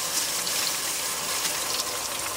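Water gushes in a steady, hissing stream from a leaking outdoor shower hookup fed by a tankless propane water heater, close and continuous.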